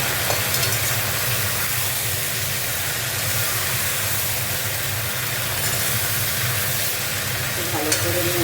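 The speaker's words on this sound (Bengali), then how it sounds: "ভালো করে নেড়ে নেবো সবজিগুলো।" Mixed vegetables for sukto frying in a pan, a dense continuous sizzle with faint stirring and scraping underneath, close and even throughout without talk.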